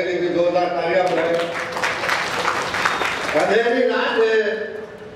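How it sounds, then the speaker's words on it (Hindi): Applause for Nazar bhai rises at the Bombay Bakers' Association general body meeting, a broad wash of clapping blended with voices, swelling in the middle and then giving way to a speaking voice. "एक बार नजर भाई के लिए भी जोरदार तालियां बजाएं।"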